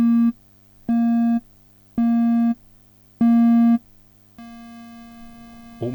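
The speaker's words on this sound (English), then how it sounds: "That's a nice rounded triangle sound." A Moog One synthesizer plays a rounded triangle wave as five loud, smooth, sustained notes, each about half a second long with short gaps between them, over a quiet low hum; the last note is held and softens.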